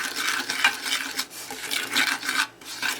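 Sugary syrup being mixed for a Jamaican pineapple upside down cake, with a close, steady gritty scraping and rubbing of a utensil in a bowl in repeated strokes, no voices.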